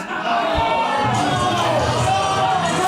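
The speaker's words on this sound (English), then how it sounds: "please clap your hands, join Poppy, and welcome the artist formerly known as the Enterprise" Crowd noise at a professional wrestling show greets a wrestler's entrance, a steady dense roar of many voices with cheering that holds for the whole stretch without a break.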